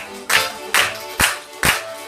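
Hands clap along to a song at a children's tree-day celebration: five sharp, evenly spaced claps roughly half a second apart, with faint singing and voices in the background.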